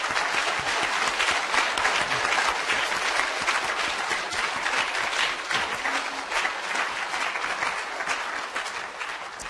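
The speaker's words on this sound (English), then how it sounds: "we should give our participants a round of applause" Sustained applause from an audience at the close of a debate on US national interests in the Middle East, a dense, even roar of clapping that holds steady for nearly ten seconds without speech.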